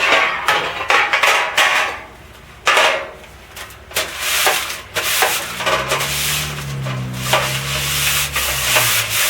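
A chilled butter wrapper is rubbed over a baking pan to grease it, making close, repeated scraping and rubbing strokes with a few light metallic knocks from the pan.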